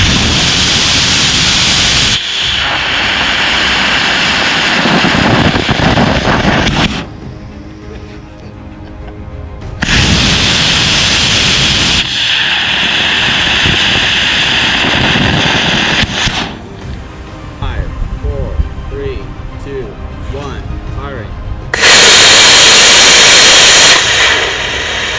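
A small model rocket engine fires on a thrust stand during a static test for a miniature Starship model, giving loud, sustained roaring bursts of rushing noise, several separate burns broken up by short quiet gaps.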